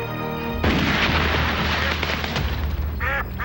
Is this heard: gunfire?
yes